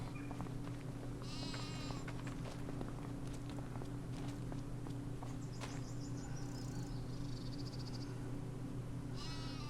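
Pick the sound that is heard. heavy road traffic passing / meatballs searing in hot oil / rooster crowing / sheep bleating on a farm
sheep bleating on a farm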